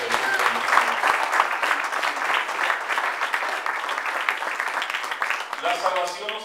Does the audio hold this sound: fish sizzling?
no